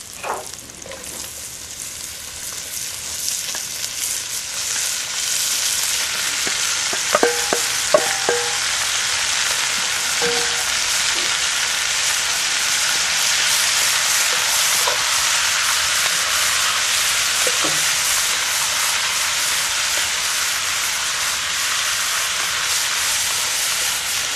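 Beef frying in rendered bacon fat for chili, with a steady loud sizzle and hiss filling the whole stretch and occasional scrapes and clicks of a utensil stirring the pan.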